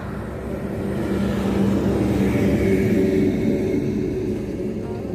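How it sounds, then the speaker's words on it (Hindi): A Mahindra Bolero car on a highway gives a broad, steady road rumble and tyre roar that swells through the middle as it passes close by, then eases off slightly. "और एक गाड़ी आ रही है अभी, महिंद्रा बोलेरो"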